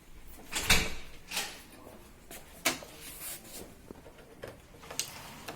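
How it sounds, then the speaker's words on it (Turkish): A door with a faulty handle is opened during a repair, giving a few soft clicks and knocks of the latch and handle mechanism, spaced over several seconds, close and quiet. "Kapıyı açalım."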